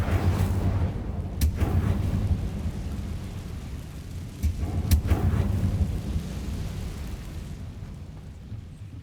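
An Incendio fire spell cast in Hogwarts Legacy, a low rumbling roar with two sharp crackling bursts, the whoosh holding steady before fading away at the end.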